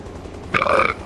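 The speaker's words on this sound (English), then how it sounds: "Sorry, burped in you guys' ears." A single short, throaty burp, close and fairly loud, lasting about half a second against quiet background noise.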